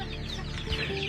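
Chicks and chickens cluck and chirp steadily in a chick transit pen on a farm, a busy, close chorus with no talk over it.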